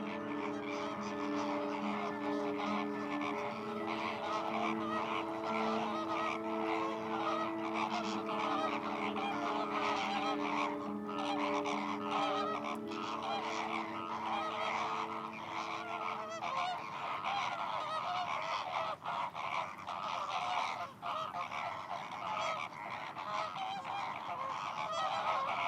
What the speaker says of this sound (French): Les flamants roses arrivent de Sardaigne, de Camargue ou de Turquie pour un séjour hivernal sur les étangs de la plaine orientale de Corse.